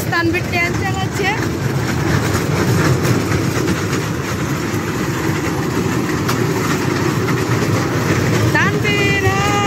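A train rolls along the tracks with a loud, steady rumble and rattle, broken by a few squeals of metal throughout.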